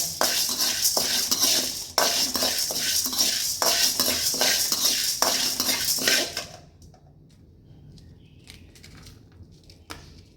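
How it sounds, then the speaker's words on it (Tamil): Cumin seeds roast in a dry pan for idli podi, a spatula scraping and clinking against the metal in quick repeated strokes that stop after about six seconds, leaving faint taps. "இது வந்து சிகப்பாக வர மாதிரிக்கு இது வறுத்துக்கணுங்க"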